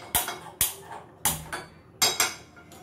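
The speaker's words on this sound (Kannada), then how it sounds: "ಮೊದಲಿಗೆ ನಾನು ಇಲ್ಲಿ ಒಂದು ಪ್ಯಾನ್ನ ಇಟ್ಕೋತಾ ಇದ್ದೀನಿ" A pan being set down on a stove, several sharp metallic clanks and knocks in quick succession, close and fairly loud, with short pauses between them and no talking.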